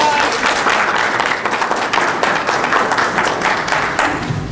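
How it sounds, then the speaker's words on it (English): An audience at a community talk with a commissioner breaks into a round of applause, steady and fairly loud clapping that lasts several seconds with no speech over it. "Please give a round of applause."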